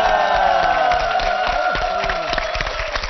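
Audience applause and scattered cheers at a Korean lecture after a song, a steady crowd wash with sharp clap transients under sustained musical tones.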